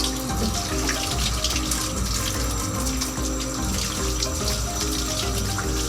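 A faucet runs steadily while hair is washed, a loud continuous gush of water close by with no talking over it.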